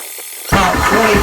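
A Beeman 2027 compressor kicks on abruptly partway through, jumping from near quiet to a loud, steady broadband mechanical roar that holds at full volume through the rest of the moment, close by with no talking.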